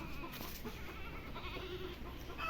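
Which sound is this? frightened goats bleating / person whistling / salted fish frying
frightened goats bleating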